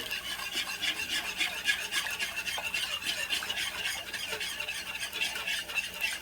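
A whisk scrapes steadily and continuously around a pan of gravy being made for an Easter dinner, a soft, even rasping that carries on without a break and with no voices over it.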